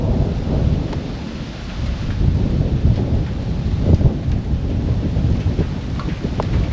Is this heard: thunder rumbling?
yes